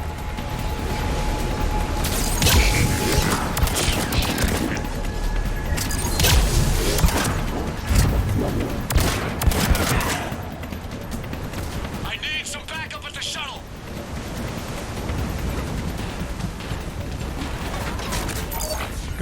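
Gunfire and explosions crackle through a firefight in Mass Effect 3, with bursts and booms dense and loud throughout, mixed with game music and voices speaking over the action.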